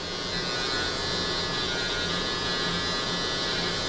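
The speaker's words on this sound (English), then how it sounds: "We're letting the clipper do all the work." Electric hair clipper lining up a beard, a steady close buzzing hum running continuously without pause.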